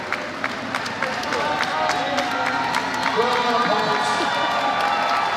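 Crowd cheering and clapping for a strongwoman at the Arnold Classic after the Big Jerk event, a loud sustained roar of applause and whoops with a commentator speaking over it.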